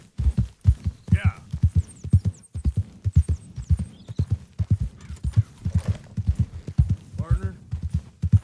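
Horse hooves clip-clopping during a ride in the western video game Red Dead Redemption 2: a continuous, close, rhythmic four-beat patter of hoof strikes with faint bird calls and jingles, plus a brief snort.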